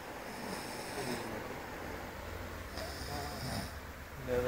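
Two female dogs asleep, snoring in slow, steady rasping breaths close to the listener, a continuous low rumble with regular inhalations and no talking.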